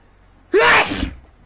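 A single sharp, loud sneeze from a gamer during a Fall Guys session, close to the microphone and alone, with a brief exhale trailing off after.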